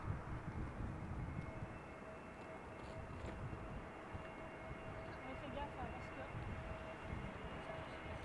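An EasyJet Airbus A320neo arriving from London Luton lands on the Polderbaan runway at Schiphol Airport, its steady low jet roar rumbling on in the distance throughout.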